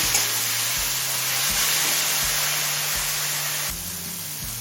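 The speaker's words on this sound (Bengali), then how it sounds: "টমেটো নরম হয়ে আসা পর্যন্ত ভেজে নিলাম" Chopped tomato fries in a hot pan for a broccoli paneer curry, a loud, steady close-up sizzle with a faint low rhythmic knocking underneath.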